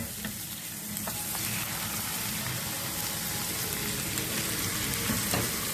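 Chicken pieces sizzle steadily in a hot pan, a close, continuous frying crackle with a few small pops throughout and no talking, cooked alongside sausage as a filling for feteer.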